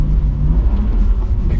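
A BMW tuned by AC Schnitzer on winter tyres braking hard, with ABS pulsing: a loud, close low rumble of tyres and chassis, broken by faint rapid judders, with a short engine tone in the cabin.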